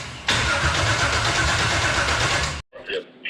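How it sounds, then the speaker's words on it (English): A car engine cranking and catching after its fuel pump is primed, a loud, sustained roar for about two seconds that then cuts off, followed by brief voices. "We just need to prime it, and I think it'll fire up."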